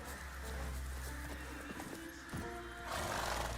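Roach, the horse in the video game The Witcher 3, neighs and whinnies loudly over a steady low game soundscape, with a few hoof clops mixed in.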